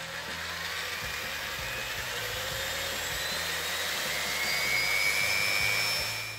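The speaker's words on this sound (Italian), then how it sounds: "ho provato con un trapano da 1800 watt, il più potente che avevo qui" A powerful 1800-watt electric drill motor, powered through a variac on a bench, whining steadily at high speed, loud and continuous with a slight rise in pitch toward the end.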